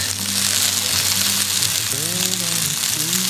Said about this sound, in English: Give nice saute